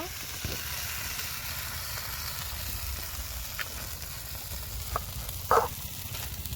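Fish fries on a tava with a steady, moderate sizzle and hiss, interrupted near the end by a couple of sharp metallic clinks from a utensil.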